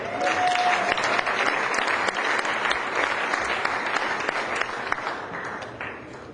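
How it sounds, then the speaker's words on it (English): A big round of applause from an audience at a Pecha Kucha presentation evening rolls on steadily, dense and moderately loud, easing off near the end. "a big round of applause"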